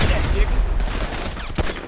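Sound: gunfight gunfire in GTA 5 video game

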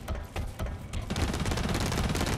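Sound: revolver gunshots in Blacklight Retribution video game

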